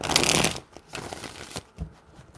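Tarot cards shuffled close up, a brief riffling burst followed by a few softer taps and slides of the deck, with no talk.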